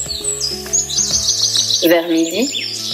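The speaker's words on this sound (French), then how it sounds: "ils aperçurent sur une branche un bel oiseau blanc comme neige, qui chantait si joliment qu'ils s'arrêtèrent pour l'écouter" A snow-white bird sings in a fairy-tale forest, a bright run of chirps and tweets against soft music, while someone narrates over it.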